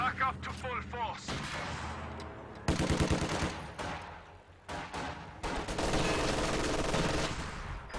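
Guards rifles and a German MG42 machine gun firing in Company of Heroes 2, a dense battle of sharp rifle cracks, rapid machine-gun bursts and booming blasts coming in waves over about eight seconds.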